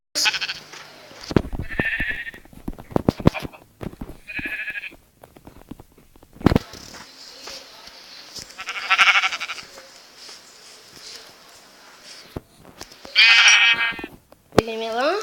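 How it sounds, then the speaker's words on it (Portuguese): Several short sheep bleats from the video game Minecraft come in separate bursts amid game clicks and thuds, while a person talks in between. "Que eu preciso muito de ovelha pra fazer cama. Ovelha, vem cá."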